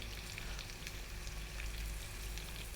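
Thick pieces of spicy masala-marinated fish frying slowly on a tawa, a dense continuous sizzle and crackle heard up close with no voices.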